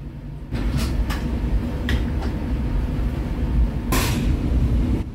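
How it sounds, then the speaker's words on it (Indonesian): Interior rumble of the Ciremai passenger train running from Cirebon toward Bandung, a steady loud low roar from inside the carriage with a few sharp rattles and clanks over the track. "kereta api Ciremai melanjutkan perjalanan menuju ke Bandung"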